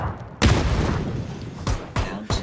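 Grenade explosion in the battle royale game PUBG: a sharp loud boom followed by a short rumble, then two more quick thumping blasts, close and punchy.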